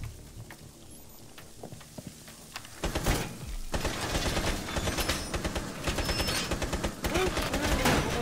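Rapid gunfire in Rainbow Six Siege erupts after a quieter start, dense bursts of sharp cracks rattling on loud and close for several seconds, with voices talking over the shooting.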